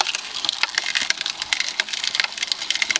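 Sugar cane crushing machine pressing and juicing stalks of cane, giving a steady run of close, sharp cracking and splintering crunches with no talk.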